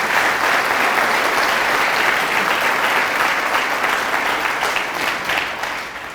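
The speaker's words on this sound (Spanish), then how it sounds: "Fuertes aplausos a Jesús de Nazaret." Loud, sustained applause from a church congregation fills the space, dense and steady throughout before easing slightly at the end.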